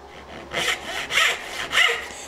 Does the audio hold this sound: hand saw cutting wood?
yes